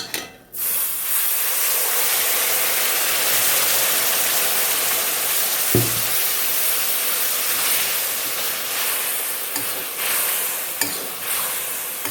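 Cold water is poured into a hot pan of browned buffalo beef, setting off a loud, sustained hissing sizzle that runs on evenly with a couple of brief knocks partway through.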